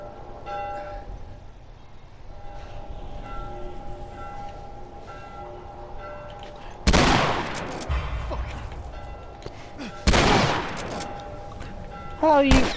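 Gunshots in The Last of Us Remastered: two loud, sharp bursts of gunfire about three seconds apart, with a third crack at the end, over quiet ambient tones and faint background sounds.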